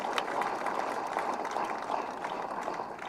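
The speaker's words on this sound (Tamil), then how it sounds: "அதுக்கே அந்த அத்தனை பத்திரிகையாளர்களுக்கும் கைத்தட்டு கொடுங்க" A large audience at a Tamil debate-style public speech claps for journalists, a steady dense patter of many hands heard from a distance and fairly faint, continuing without a break and with no voice over it.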